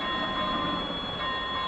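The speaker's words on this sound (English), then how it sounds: "so obviously another train coming." Train passing steadily through a Russian railway simulation game, a continuous loud rumble of rolling stock with high steady tonal whines running throughout, no voices.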